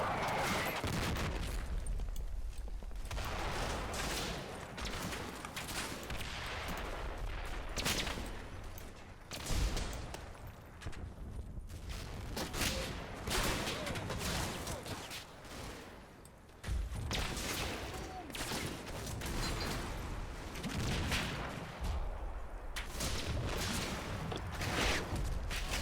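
Sustained gunfire in the WWII tactical game Combat Mission Battle for Normandy, dense volleys of rifle and machine-gun shots with distant booms, continuous and moderately loud across the whole stretch without talk.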